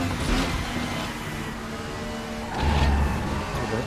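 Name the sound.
race car engine in the video game RaceRoom Racing Experience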